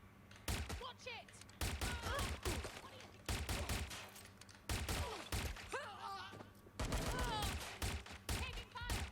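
Gunfire in Watch Dogs: Legion, loud bursts of automatic shots crackling in repeated volleys, mixed with shouting voices and in-game chatter between the bursts.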